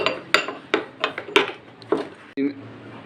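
Turmeric powder and salt being stirred into raw beef in a pot for beef karahi, with a series of sharp utensil clatters and scrapes against the pot, fairly close, ending in a brief rubbing scrape.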